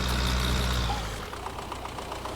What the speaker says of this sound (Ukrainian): Тут наш трактор стоїть.